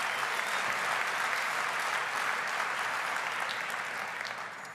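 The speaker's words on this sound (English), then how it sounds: "Yeah, you can clap for that." Sustained, loud audience applause fills a large hall at the Adobe Summit 2026 day-two keynote, a steady wash of many hands clapping that tapers slightly toward the end.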